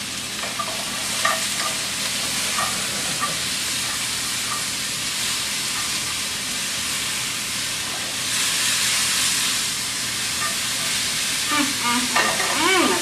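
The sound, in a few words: garlic sizzling in a pan for mushroom flatbread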